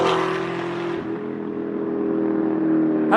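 A car speeds past at a rev battle, its engine roaring loudly at close range and then dropping in pitch as it moves away, with a revving engine rising again at the end.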